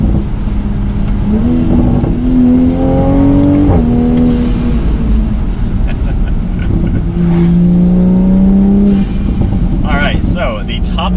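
A Toyota A90 Supra engine revs on a road with echoes off the surroundings, rising and falling tones in repeated pulls, loud and close, with another car nearby.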